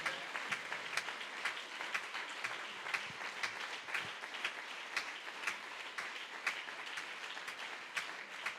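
A church congregation applauds steadily throughout, many hands clapping in a dense, continuous patter with sharper individual claps standing out, moderately distant and filling the room.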